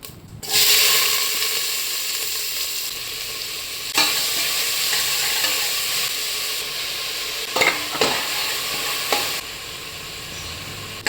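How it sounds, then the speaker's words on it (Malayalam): Steady, loud sizzling of onions frying in coconut oil in a pressure cooker, with a few brief clatters of stirring partway through; no voices. "ഉള്ളി വാടി വരാൻ വേണ്ടി കുറച്ചും കൂടി എണ്ണ ഒഴിച്ച് കൊടുത്തിട്ടുണ്ട്"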